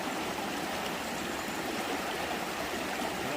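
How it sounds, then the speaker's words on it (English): Water rushing steadily through a gold sluice box set in a Pennsylvania creek, a dense, even splashing flow with no breaks and no voices. "It'll just wash down the sluice with big clumps like that."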